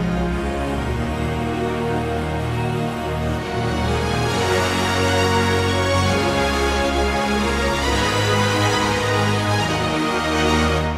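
Epic orchestral string section playing full, sustained chords with layered low and high parts, a dense continuous wall of sound swelling in the middle and holding loud throughout, no voices.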